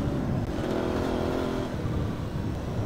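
An Aprilia Tuareg 660 parallel-twin motorcycle ridden off-road gives a steady, moderately loud engine drone mixed with wind rush, heard continuously from the rider's position.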